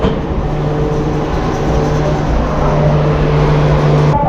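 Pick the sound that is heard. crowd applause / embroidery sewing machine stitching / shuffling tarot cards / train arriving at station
train arriving at station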